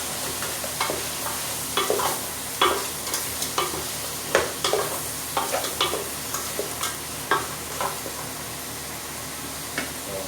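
Pancit canton ingredients cook in a pan, a steady sizzle of frying under repeated scraping and tapping of a utensil stirring the food, close and fairly loud.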